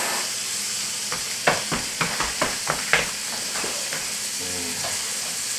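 Bacon strips frying steadily in a pan, a constant broad sizzle with a run of sharp pops and spatters in the middle, close and loud with no talk.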